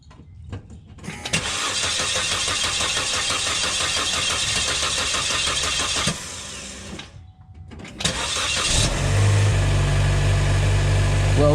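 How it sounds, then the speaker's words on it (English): A 2012 Chevy Cruze engine cranks and fires, running loud and steady for several seconds, dropping briefly, then catching again and settling into a close, even idle. "I'm gonna start it, and I'm gonna see if it leaks"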